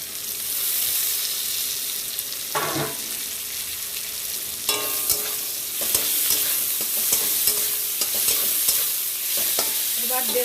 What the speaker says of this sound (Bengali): এটা ভেজে নেব টমেটো কুচি দিয়ে দিচ্ছি